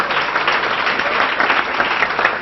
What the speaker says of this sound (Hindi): और एक बार फिर से तालियां यार